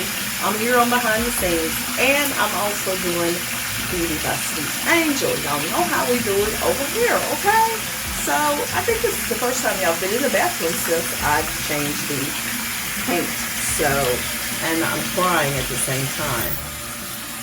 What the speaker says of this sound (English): I was actually rinsing out my little container that I mixed up my hair product in